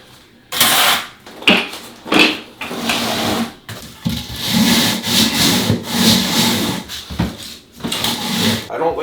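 A trowel scrapes and pushes loose material into a pile during a bathroom renovation, producing loud repeated rasping strokes close by, with short pauses between them.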